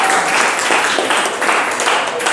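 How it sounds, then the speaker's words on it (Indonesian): Classroom applause for a student, a short, loud, even patter of many hands clapping together close by, with no talk over it. "Tepuk tangan untuk Andini."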